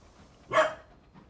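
A single short dog bark, fairly faint and somewhat distant, in an otherwise quiet room.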